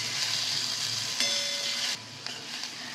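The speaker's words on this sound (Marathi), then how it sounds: "त्यात आता बारीक चिरून घेतलेला कांदा. कांदा छान लो फ्लेमवर आपण यांना मस्त शिजवून घेऊया." Finely chopped onion fries on a low flame in oil with asafoetida and turmeric, giving a steady, soft sizzle with a brief clink partway through.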